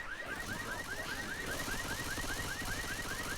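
Car alarm in a video game, a repeating rising electronic whoop cycling rapidly and steadily throughout, sounding against busy background game noise.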